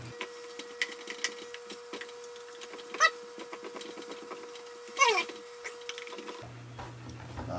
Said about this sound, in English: we simply remove those three screws like so. Phillips head screwdriver